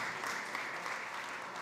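An audience claps together in a steady, even patter of applause that sounds somewhat distant and soft, with no voices over it.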